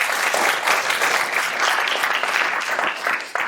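Sustained audience applause at a business pitch event, dense and steady clapping from a crowd filling the room at even loudness, tapering only slightly at the very end.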